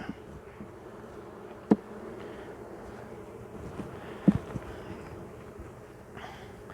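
Honeybees buzzing steadily in an open hive, a soft continuous drone with a couple of brief nearby knocks and no talk.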